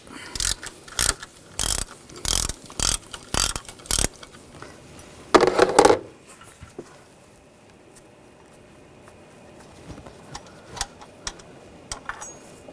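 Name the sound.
13mm socket ratchet removing bracket bolt on BMW X5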